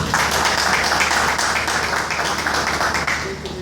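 A conference audience in Lagos applauds a guest speaker, a dense wash of clapping from many hands that carries evenly, then thins and fades toward the end.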